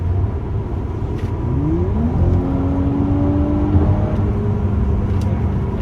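2019 Audi S5 Sportback accelerating on the road, a loud, close engine drone that rises in pitch through gear changes over a few seconds beneath steady tire and wind rumble from inside the cabin.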